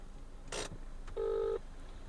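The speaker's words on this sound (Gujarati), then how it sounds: "હવે ભાવેશ બીજાને કરીએ ફોન" A phone call is placed: a short burst of noise is followed by a single clear electronic telephone tone lasting under half a second, over faint background hum.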